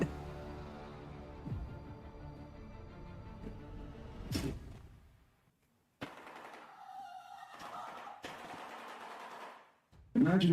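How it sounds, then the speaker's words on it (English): Rapid wooden clattering in bursts from a shoebill stork rattling its bill, machine-gun-like rattles separated by brief silences, with some talking in the background. "that wasn't gunfire. That was the stork."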